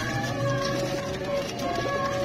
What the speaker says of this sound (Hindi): ये देखें जी दोस्तों ये कबूतर है